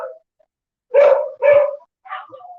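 A dog at the Hawaiian Humane Society shelter in Honolulu gives three close, loud barks after a short opening yip, with brief gaps of silence between them.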